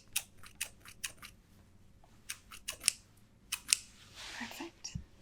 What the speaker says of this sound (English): I'll cut it off for you really quick